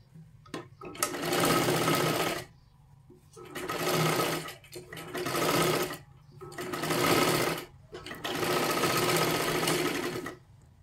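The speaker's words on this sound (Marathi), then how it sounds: "आता ह्याच्यावरती पण अजून एक आपल्याला डबल शिलाई मारून घ्यायची आहे" A sewing machine runs a double seam on a katori blouse in five loud bursts of fast, rhythmic stitching, each a second or two long, separated by short pauses.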